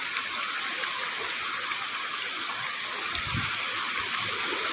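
Water flowing at a waterfall, heard as a constant broadband rush close by, steady and loud throughout, with a brief low thump near the end.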